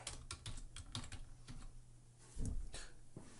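Fast typing on a computer keyboard, a quick irregular run of clicking keystrokes heard close and fairly quiet, with a slightly louder cluster of key presses near the end.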